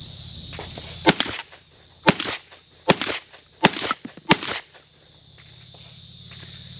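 A Garaysar Fear 116 AR-12 shotgun fires double-aught buckshot at a range: five loud, sharp blasts at uneven intervals of about a second, each trailing a short echo, then quiet background.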